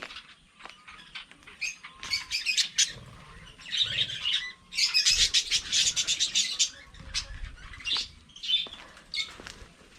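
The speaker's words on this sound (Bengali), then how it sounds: "এখানে অনেকগুলো পাখির বাসা রয়েছে, কিউট কিউট পাখি।" Small birds chirp and tweet in quick, bright bursts near a watch tower with many nests in Gopiballavpur, Jhargram, several calls overlapping close by, with brief quiet gaps between flurries.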